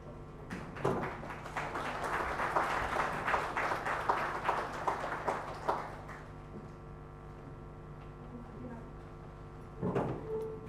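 Audience applause at an inauguration ceremony, a dense crowd of clapping hands filling the first six seconds before thinning out, with a brief burst near the end.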